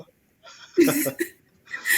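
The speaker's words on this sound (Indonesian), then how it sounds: "Waduh, batuk banget saya." A few short, close coughs and throat sounds in quick succession, fairly quiet, with brief pauses between them.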